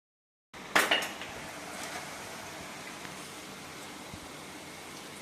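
Omapodi dough for Madras mixture is squeezed from a murukku press directly into hot oil in a kadai. After brief silence a sharp metallic clank is followed by a steady, even frying hiss that continues to the end.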